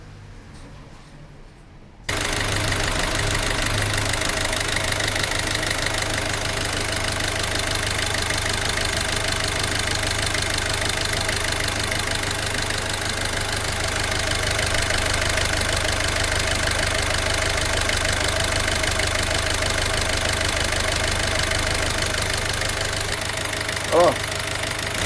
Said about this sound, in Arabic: نسمع لكم الصوت تاع المحرك